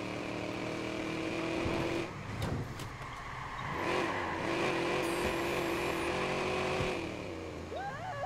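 A car's engine drones and revs steadily while driving through Chicago in Watch Dogs, a continuous mid-level hum with shifting pitch and a brief dip partway through, heard alone without talk.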